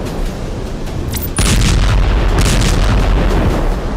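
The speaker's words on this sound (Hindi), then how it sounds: "आईडीएफ फोर्सेस ने पीआईजे के हथियार गोदाम को बम धमाकों में नष्ट कर दिया।" A bomb blast destroying a Palestinian Islamic Jihad weapons depot in an IDF strike hits suddenly and loudly after a moment of noise, then rolls on as a sustained heavy roar and rumble.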